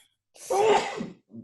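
A single close sneeze with a sharp burst, followed by a short breathy exhale.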